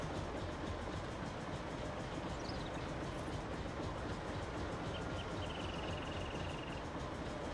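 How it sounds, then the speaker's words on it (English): Old John Deere diesel tractor idling in Farming Simulator 19, a steady, even engine drone that holds unchanged throughout, with no talking over it. "I love the way this old John Deere ticks over."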